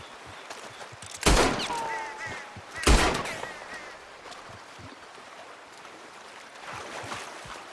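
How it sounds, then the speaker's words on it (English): Gunshots shooting off a lock in Red Dead Redemption 2, two loud sharp shots about a second and a half apart with a ringing ricochet after the first, then quiet outdoor ambience. "That lock should shoot off easy enough."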